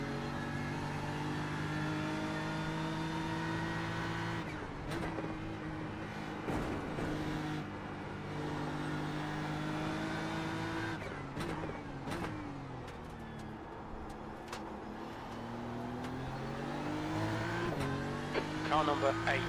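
Race cars in a GT3 Pro-Am sim racing league at Imola, engines droning and shifting pitch continuously as they lap, with a voice talking over the engine noise throughout.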